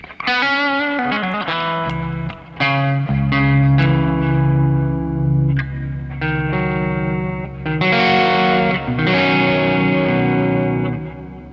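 Distorted electric guitar chords through a Peavey 6505 MH amp on channel 3 ring out loud with heavy delay and reverb, notes smearing and echoing into a wash of sustained tone.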